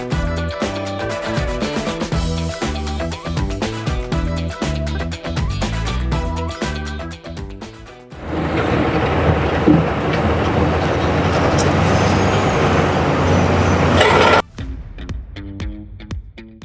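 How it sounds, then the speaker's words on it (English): A large mining haul truck pulls up to a loading shovel at a phosphate mine, its heavy, steady mechanical roar filling the middle stretch loudly, with rhythmic music-like sound before and after. "Here we go, another truck coming in right now."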